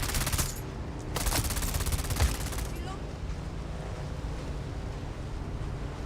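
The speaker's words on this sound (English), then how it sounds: "I'm getting shot." Gunfire striking a player character in the video game Dune Awakening, a burst of rapid shots up front and again near two seconds over steady background noise, with a voice talking through it.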